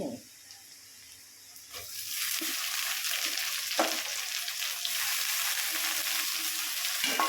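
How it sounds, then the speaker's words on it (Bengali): Onions, chillies and washed vegetables fry in a pan, starting quiet and then swelling into a steady, close sizzle dotted with occasional stirring clinks. "এবার এগুলো একটু ভেজে নেবো।"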